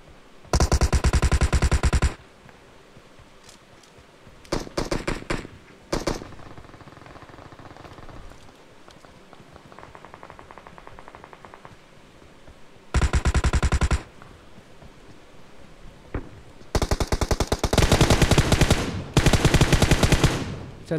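Video game gunfire comes in several long, loud automatic bursts, each a dense rapid rattle lasting one to two seconds, separated by quieter stretches of faint background game noise.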